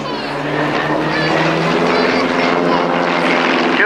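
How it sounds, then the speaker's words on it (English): Aircraft flying a formation barrel roll at an airshow at Shoreham, a loud, steady droning engine roar that holds constant throughout, with faint voices underneath. "Beautiful barrel roll in formation."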